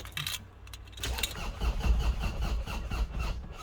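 Car engine cranking with help from a portable jump booster after the fuel pump was primed, a rough churning turnover that starts after a second and keeps labouring, fairly close, with a faint jangle and squeal.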